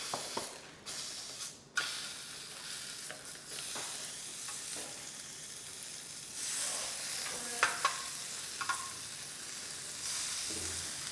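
Food sizzles and fries in a pan for a steady stretch, with scraping stirs and occasional clinks of a utensil against the pan, fairly close and without talk.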